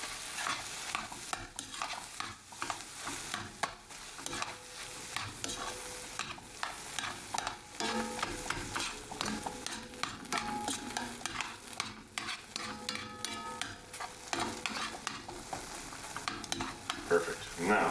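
Steak hoagie filling with melted cheese tossed and stirred in a hot pan, a steady loud sizzle running throughout under repeated scraping and clattering of the spatula, no talk.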